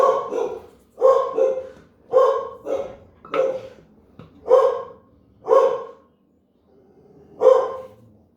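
Several dogs bark at someone passing a house, sharp bursts in loose rhythm of roughly eight barks over several seconds with short gaps, fairly close and loud, with no talking over them.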